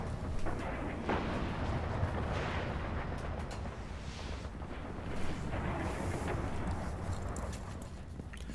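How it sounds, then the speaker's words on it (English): Shotgun blasts and booming gunfire fill a Destiny beta Crucible multiplayer match on Xbox One, a dense, loud, continuous barrage of heavy reports with a few stronger bursts. "And this is one of the shotguns."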